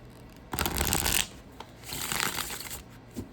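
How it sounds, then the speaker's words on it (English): A tarot card deck is shuffled by hand nearby in two riffling bursts separated by a short pause, with faint taps at the end and no talking. "Did I shuffle the deck? I don't think I shuffled."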